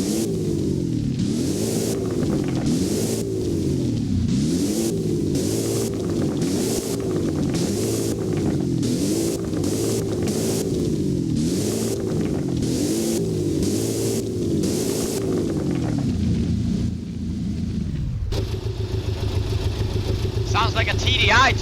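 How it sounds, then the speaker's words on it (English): Porsche engine revving on a drag strip in the Driving Empire game: loud, close, rhythmic pulsing revs rise and fall over and over, then give way to a steadier rumble near the end. "when it comes to the sound of the vehicle, it's kind of loud. Listen to this."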